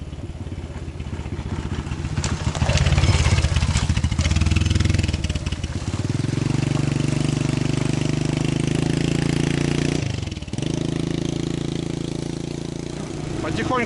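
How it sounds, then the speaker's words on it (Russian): A motorcycle, an all-terrain moto-vehicle ridden through a forest on a mushroom-hunting trip, growls close to the mic. It revs and loads up, then settles into a steady drone with a brief dip. Someone talks over the engine. "Так уже какие-то места просто проезжаю на мотоцикле."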